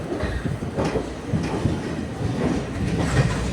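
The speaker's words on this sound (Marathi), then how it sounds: "आता ट्रेन निघाली आहे" A train rumbles close by with a steady, rhythmic clatter of wheels on track, continuous and fairly loud, with no voices.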